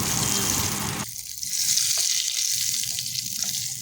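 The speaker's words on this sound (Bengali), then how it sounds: "চাটনিতে তড়কা দেবো। দিয়ে দিচ্ছি সর্ষের তেল, দিয়ে দিচ্ছি সর্ষে ফোড়ন, দিয়ে দিচ্ছি হিং।" Mustard seeds and hing crackle as they temper in hot mustard oil for a chutney, a close, steady sizzle that drops suddenly a second in and then keeps frying with faint pops, no talk over it.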